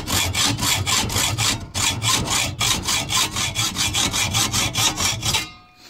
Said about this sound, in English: it'll create a nice little notch for you to put your hacksaw into